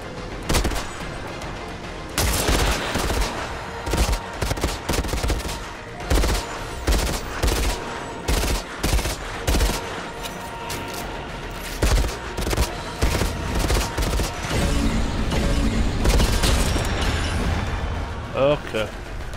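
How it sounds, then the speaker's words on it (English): An assault rifle in the shooter game Outriders fires repeated choppy bursts at long range, with a dense battle soundscape behind it. Someone talks over the shooting. "I'm just long range sniping right now."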